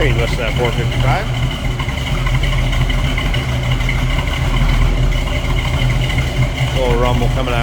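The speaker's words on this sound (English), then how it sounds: "A little rumble coming out of that dual exhaust setup." A deep, steady V8 rumble from a 1974 Pontiac Trans Am's 455 engine idling close by through a dual exhaust, with a voice talking over it briefly at the start and end.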